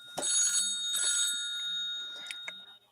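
A phone rings with a bright electronic bell-like tone, sounding several short repeated trills at moderate volume in a quiet room with no talking.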